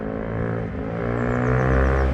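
A motorcycle engine that had a faulty starter idles steadily close by, its low rumble swelling slightly as it revs, with no one speaking.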